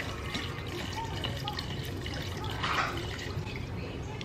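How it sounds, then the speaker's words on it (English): Tequila poured in a hefty stream into a pitcher already holding a whole bottle of wine for a fall sangria, a steady liquid splash with faint background noise. "now I'm gonna add the tequila"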